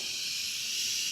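A steady, loud hiss of rushing air from a vacuum brake bleeder held open during a RAM 1500 brake flush, continuous and close with no pauses.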